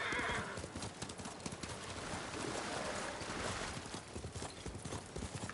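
Horse hooves in Ghost of Tsushima clip-clop steadily at a walking pace, set against a soft wash of ambient noise.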